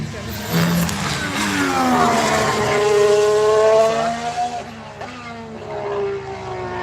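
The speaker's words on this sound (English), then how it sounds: "Why does the Renault and McLaren sound different, although they are practically the same engine?" Formula 1 cars with Renault and McLaren engines pass by at a track, loud high-pitched engine whine sweeping down in pitch as they go past, with people talking over it.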